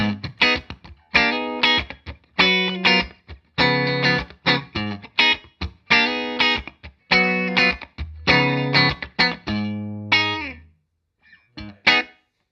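Dry funk rhythm playing on a Telecaster electric guitar with no reverb, tight choppy chords and staccato stabs in a syncopated pattern, loud and close with short gaps between phrases.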